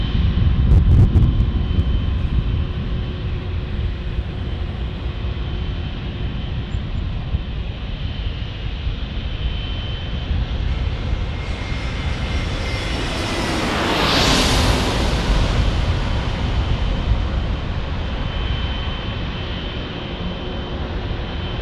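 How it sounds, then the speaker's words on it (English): A Spirit Airlines airliner lands at San Diego airport, its loud broadband engine roar steady throughout and swelling to a peak midway as the jet passes close by, then easing off. "Here comes Spirit. Spirit landing."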